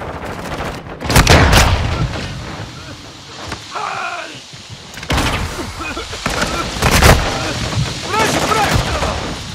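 Gunfire in Call of Duty: Modern Warfare II, loud bursts of shots and booms in clusters with short pauses between, alongside a voice speaking.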